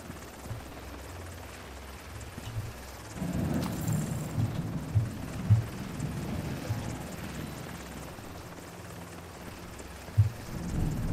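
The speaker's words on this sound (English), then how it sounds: "There's a helicopter sound and there's no helicopter here." A distant helicopter in The Division 2 drones faintly for the first few seconds, then swells into a louder low rumble with thumping pulses that persist to the end, heard with no talk.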